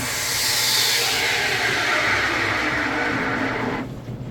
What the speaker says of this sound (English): So that first steaming of a couple seconds made it to 160.